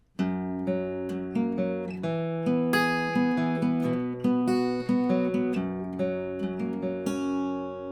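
Acoustic guitar chords strummed in a steady rhythm, each chord ringing out with bright overtones; no voices.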